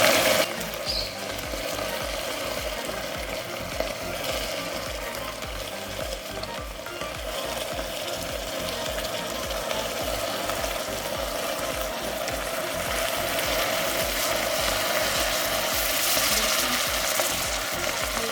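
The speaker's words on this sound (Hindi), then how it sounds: "अब हम आहिस्ता आहिस्ता करके इसमें गरम पानी शामिल कर देते हैं" Hot water is slowly poured into a hot, dark mixture for homemade soy sauce, making a continuous bubbling sizzle and hiss that holds steady for the whole pour without any talk.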